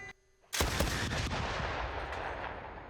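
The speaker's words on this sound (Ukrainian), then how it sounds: "Постріл!" A single loud gunshot from the cannon of a Ukrainian BTR-4E armored vehicle cracks out close by, followed by a long rumbling echo that slowly fades.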